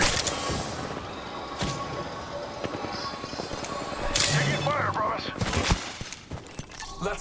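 Gunfire in Apex Legends, bursts of sharp shots crackling in quick succession, loud and near, mixed with game sound effects and a voice speaking over parts of the clip.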